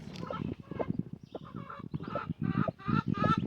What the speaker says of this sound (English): You hear the babies? She's got babies hatched in there.